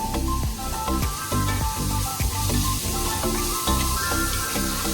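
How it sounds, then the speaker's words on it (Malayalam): Green chillies sizzle and spatter in a hot pan of oil while mutton kurma is being made, a loud continuous frying hiss with scraping stirs and clinks. "ഞാൻ പച്ചമുളക് ഇട്ട് കൊടുക്കുകയാണ്"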